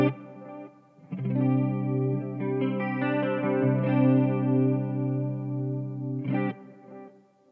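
An electric guitar plays through a Marshall MG50CFX amp with reverb, chorus and delay. Sustained clean chords ring out with a shimmering, echoing tail and a fresh strum near the end, and no one speaks.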